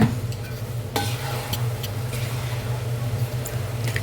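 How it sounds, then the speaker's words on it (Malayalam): Turmeric powder stirred into fresh lemon juice for a pickle, with a spoon scraping and clinking against the bowl in short bursts over a steady low background hum. "ഒരു രണ്ട് സ്പൂണോളം മഞ്ഞൾപ്പൊടി ഇടാം ഇളക്കാം"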